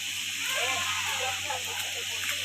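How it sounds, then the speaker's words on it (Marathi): Chicken biryani ingredients fry in oil and ghee, giving a steady, moderate hiss and sizzle with faint bubbling, while a voice can be heard over the cooking. "हे बघा मस्त कसं फ्राय होतंय."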